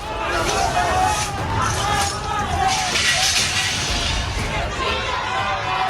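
A large street protest crowd in Morelia, Mexico, fills the air with dense, continuous babble and raised voices, a steady roar with faint rhythmic swells that may be chanting, heard from within the throng.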